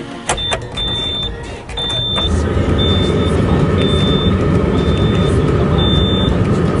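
A sports car engine fires up with a push-button start and settles into a steady, loud rumbling idle, with a few short electronic beeps sounding over it near the start.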